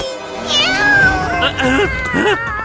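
Exaggerated cartoon-style meows from the Motu Patlu cartoon in Bengali over a busy animated soundtrack, with several rising and falling cries in quick succession and voices talking alongside.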